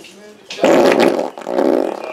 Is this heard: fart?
yes